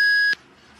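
A BT-S3 Bluetooth riding intercom gives one steady, clear electronic beep lasting about a third of a second as it is pressed to disconnect, then the sound cuts off into quiet background.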